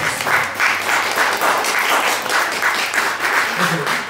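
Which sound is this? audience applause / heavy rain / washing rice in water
audience applause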